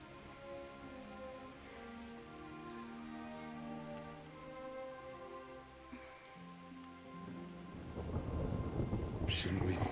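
Thunderstorm in Kingdom Come: Deliverance, with low rolling thunder rumbling through a long stretch and rain swelling louder toward the end, under a musical background.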